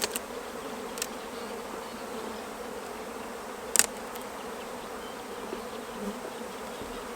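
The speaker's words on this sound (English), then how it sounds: "there are just thousands of bees out foraging" Thousands of honey bees forage on a warm spring morning, a steady soft hum of many wings with a few louder passes close by, including one sharp buzz near the middle.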